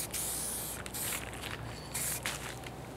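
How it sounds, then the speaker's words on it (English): Aerosol guide coat sprayed onto the front fenders of a 1956 Ford pickup, heard as several close hissing bursts of varying length with brief gaps between them. "Another shot of guide coat."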